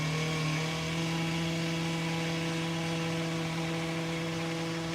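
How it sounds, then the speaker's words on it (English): A cheap string trimmer runs steadily at close range, a loud droning engine whine with a strong buzzing hum that holds level throughout, with no one speaking. "Why is your trimmer louder than your lawnmower?"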